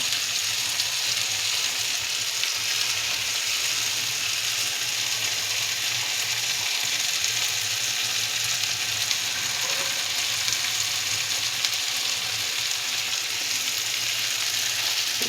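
Chowmein noodles going into a hot frying pan and being stir-fried, a steady loud sizzle of frying with faint scraping and stirring underneath, continuous throughout with no talking.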